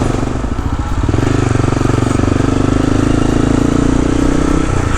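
A motorcycle engine runs steadily and close by on a quiet island crossroads, a continuous loud throbbing drone with a fast regular pulse that holds for the whole stretch.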